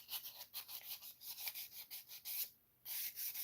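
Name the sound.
scuffing up a surface by hand before painting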